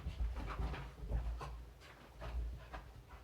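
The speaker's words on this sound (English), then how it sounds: "My dog is running around in the background." Dog running around indoors at night, with bursts of panting, soft whimpers and scuffling at moderate distance, coming in uneven clusters with no talk.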